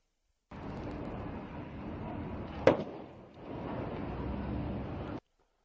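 A Lamborghini Aventador burning on a bridge gives a steady roar of flames with one sharp pop partway through, then the fire noise dips briefly and rises again before cutting off.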